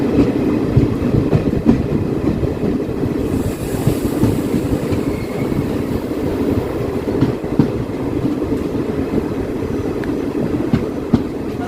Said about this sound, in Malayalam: 3 മിനിറ്റ് ഏർലിയായി കണ്ണൂർ റെയിൽവേ സ്റ്റേഷനിലേക്ക് നമ്മൾ ട്രെയിൻ എത്തിക്കൊണ്ടിരിക്കുകയാണ്